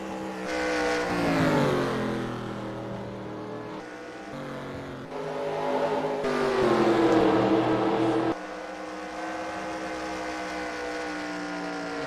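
Race cars in the eNASCAR Heat video game at Las Vegas roar past in waves, engine notes rising and falling as they pass, then settle into a steadier, quieter drone near the end; no voices.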